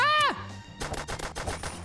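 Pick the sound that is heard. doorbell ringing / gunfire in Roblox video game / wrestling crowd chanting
gunfire in Roblox video game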